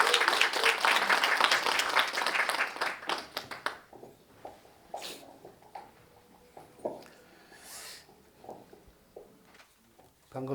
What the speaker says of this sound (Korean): 여러분 정말 뜨거운 박수 좀 환영해 주시고